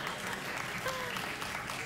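Studio audience applause on a late-night talk show, a steady dense wash of clapping that fills the whole stretch at moderate level with no voices over it.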